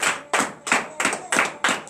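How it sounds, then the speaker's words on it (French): A congregation at morning prayer claps in acclamation, six sharp, evenly spaced unison claps in a steady rhythm, close and clear. "je nous invite à donner une vive acclamation à l'Éternel ce matin"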